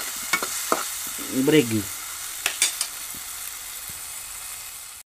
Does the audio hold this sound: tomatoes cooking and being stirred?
yes